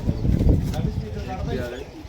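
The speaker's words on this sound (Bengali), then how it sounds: "পায়রা।" A high-flyer pigeon, a male Teddy, coos softly in low murmuring rolls close by, partly under someone talking.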